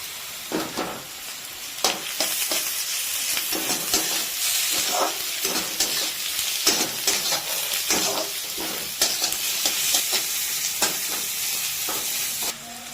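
Chopped onion with crushed ginger and garlic sizzles in a pan for paneer bhurji, a loud, continuous frying hiss broken by repeated scraping stirs.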